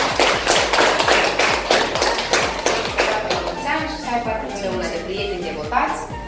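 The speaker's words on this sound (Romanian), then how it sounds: "Încă o dată ne aplaudăm." A group claps rhythmically at a home birthday surprise in the village of Glinjeni, with steady beats and voices under the applause that eases slightly toward the end.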